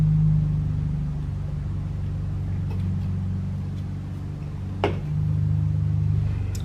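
A car engine running downstairs, a steady low rumble that holds for the whole stretch, heard through the building with a faint knock partway through.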